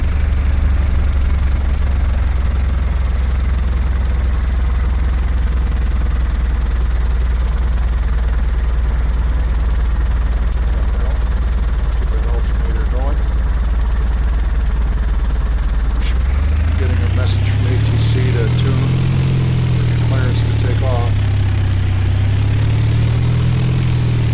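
Cessna 172 piston engine idling while taxiing in the flight simulator X-Plane 10, a steady loud low drone throughout that rises and wavers in pitch near the end as the throttle changes.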